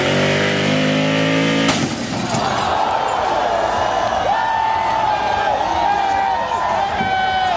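Two Chevy cars revving their engines hard in a tug-of-war pull, a loud sustained roar with rising and falling pitch after an abrupt start, crowd noise and talk audible underneath.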